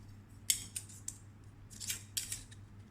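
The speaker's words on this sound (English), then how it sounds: "I will cut this part off." Cutting off part of a gel blaster receiver, probably with snips: several sharp, crisp clicks and snips at irregular intervals, close up over a quiet background hum.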